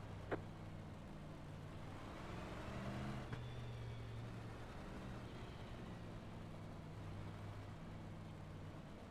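Race cars in a crowded oval stock-car video game race run as a steady low engine drone throughout, with a brief sharper click near the start and no talk.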